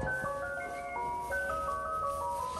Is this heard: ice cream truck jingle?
yes